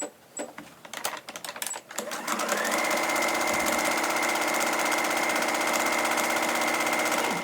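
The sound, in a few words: sewing machine sewing a fabric strap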